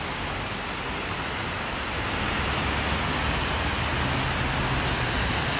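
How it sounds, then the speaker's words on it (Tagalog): Heavy rain pours steadily in downtown Chicago near the lake, a dense, continuous hiss of drops on hard surfaces that swells slightly louder partway through, with no voices. "Ang lakas ng ulan ngayon."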